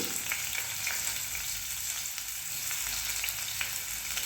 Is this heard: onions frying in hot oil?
yes